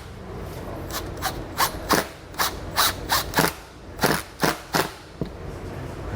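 A Phillips or number 2 square bit drives screws to mount a plunger and nylon socket door holder on a 2015 Forest River RV, with repeated short whirring bursts in quick succession, close and fairly loud over faint background.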